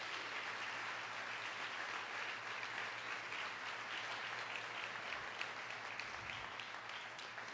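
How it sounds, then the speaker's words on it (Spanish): A church congregation applauds, sustained, even clapping heard from a distance at low volume, continuing without pause for several seconds. "Denle un gran aplauso al Señor."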